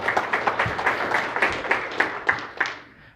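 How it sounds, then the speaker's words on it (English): Audience applause after a hypnosis demonstration: a few seconds of uneven clapping in rhythmic bursts that fade slightly toward the end. "Give him a round of applause."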